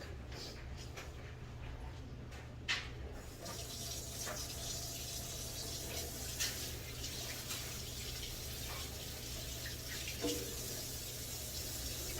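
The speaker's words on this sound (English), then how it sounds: "Let me go over here, wash my hands" A kitchen sink tap runs steadily while hands are washed beneath it, a continuous close water stream with a few small splashes and clatters, no talking.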